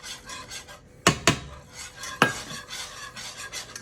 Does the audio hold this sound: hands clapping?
no